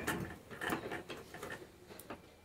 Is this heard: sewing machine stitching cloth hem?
yes